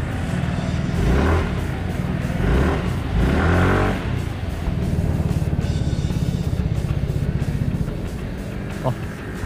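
A SYM JET SL scooter with idle-stop rides in the rain, its engine revving up and easing off in several surges before settling into a steady, close running drone.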